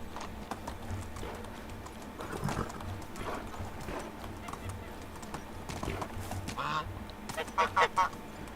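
In the video game Medieval Dynasty, a sheep gives goose-like honks amid clip-clopping hooves and farm animal noise, with a short burst of three loud honks near the end and someone talking throughout.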